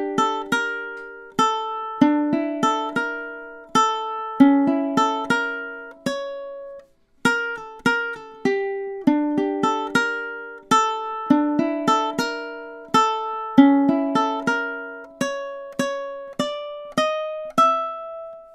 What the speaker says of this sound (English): So now the whole melody C, melody 2, sounds something like this for the ukulele 2 part.